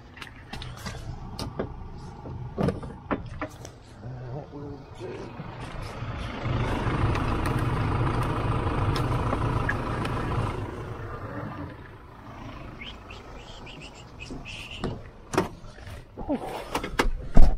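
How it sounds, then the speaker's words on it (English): A 4x4's electric winch hauls a stuck van out of a field gap, rising into a strained motor whine that holds for several seconds, then drops away among scattered clunks and knocks. "Handbrake on and I'll winch it out of this gap"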